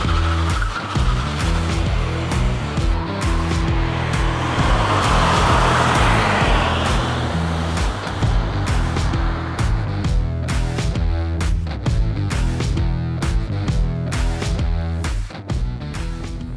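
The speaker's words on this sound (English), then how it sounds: "we are putting around this 2004 Lexus ES330 like we do with every car for one lap of our racetrack" A 2004 Lexus ES330's engine drones steadily as it laps a racetrack, tires squealing and skidding through corners, loud and close with no talking.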